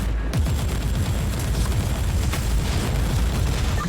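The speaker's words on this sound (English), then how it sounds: "Sounds like a cannon getting charged." A cannon charging up in the Warhammer 40000 Inquisitor Martyr video game, heard as a steady, dense low rumble with crackling bursts that holds loud and unbroken for the whole span, with no talk over it.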